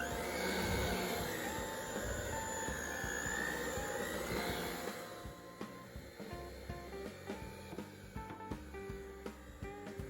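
An electric mixer whirs steadily while mixing eggs into New York style cheesecake batter, fairly faint, then gives way after about five seconds to quieter clattering and handling noises.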